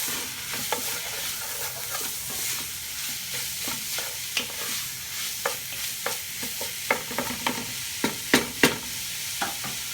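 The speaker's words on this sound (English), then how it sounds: "we just want to brown our meat" Beef chunks for vindaloo browning in a pan over turned-down heat, a steady sizzle broken by frequent sharp scrapes and clacks of stirring that grow busier toward the end, close and with no voices.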